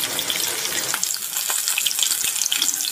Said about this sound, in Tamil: இப்போ ஒரு பீஸ் தா போட்டு பொரிச்சு எடுத்துக்கலாம்